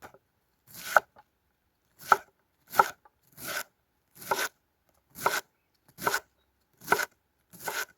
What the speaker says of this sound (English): start cutting your cabbage